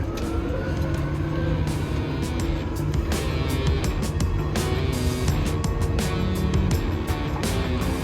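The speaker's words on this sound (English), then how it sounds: "I like these CVT gearboxes, I do. Put on the throttle, gently away, look." A vehicle with a CVT gearbox pulls away under gentle throttle, making a loud, steady engine drone with a smooth rising whine and no gear changes, heard up close in wet conditions.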